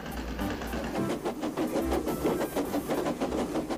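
A steam locomotive chuffs steadily past in rapid rhythmic puffs over a low mechanical rumble, loud and continuous, with a tractor working in the fields nearby.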